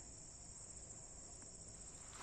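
Steady high-pitched cricket chirping fills the air continuously in a morning flower garden in Canada, a constant outdoor drone at moderate volume with no voices.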